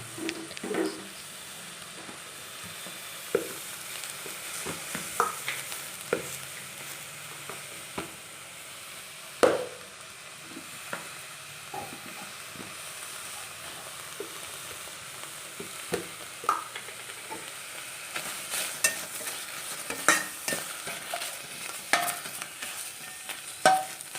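Garlic, coconut and green chilli fry in a pan, producing a steady low sizzle throughout with scattered soft clicks and stirring taps.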